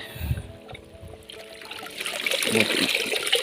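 Water trickles and drips steadily from a sheet of soaked cardboard, a close, soft patter that grows slightly busier toward the end, with no talking.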